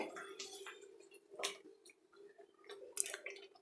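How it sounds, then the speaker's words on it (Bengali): Water is poured into a simmering pan of Punjabi chicken gravy with a few brief splashes and drips, close by and quiet, with a voice speaking softly at times. "আর একটু জল দিয়ে দেব।"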